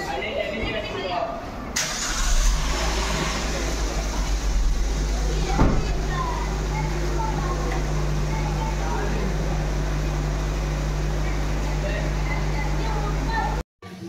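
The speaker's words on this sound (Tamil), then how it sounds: "மாமா தான் ஃபஸ்ட்டு கார் ஓட்டி ஆரம்பித்து வச்சாங்க." A car engine cranks and catches, then settles into a steady low hum with a constant whine as the car drives along, with people talking over it inside the cabin.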